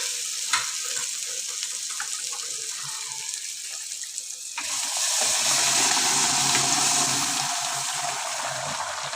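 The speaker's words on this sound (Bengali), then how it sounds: "এখন রাজমাটা ঢেলে দেবো" Kidney beans (rajma) tip into hot spiced masala with a sudden loud sizzle that swells at the midpoint and holds steady, after a stretch of quieter frying and light clatter; no one talks.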